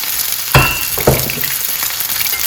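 Olive oil sizzling steadily in a hot pan on a stovetop, with two sharper bursts of crackle early on and a faint clink, continuous and close with no talking.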